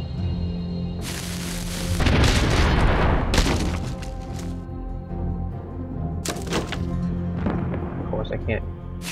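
A cannon is launched in the video game Enclave, with heavy booming blasts and crackling impacts over a steady game soundscape, while a player talks over it.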